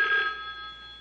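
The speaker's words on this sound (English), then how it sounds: "What is it? A phone call?" A telephone bell gives a single short ring that starts sharply and fades away within a second, with no voices.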